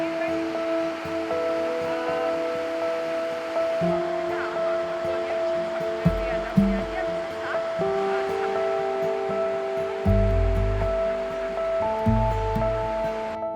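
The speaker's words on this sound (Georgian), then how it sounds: "ესაა ჩემი მდინარე." A river in the Georgian mountains rushes with a steady broadband roar throughout, overlaid by sustained tonal music.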